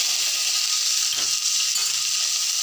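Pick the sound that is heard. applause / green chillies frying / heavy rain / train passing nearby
green chillies frying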